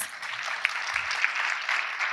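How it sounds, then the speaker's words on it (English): Brief, moderately distant round of applause from an audience at a climate information summit in Brasília, a soft continuous patter of clapping lasting about two seconds. "Please give them a round of applause"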